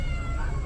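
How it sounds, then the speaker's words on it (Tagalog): A cat yowls in a loud, continuous caterwaul while squaring off against a dog, strained and close, filling the whole moment without speech. "Nakipag-away pa sa pusa."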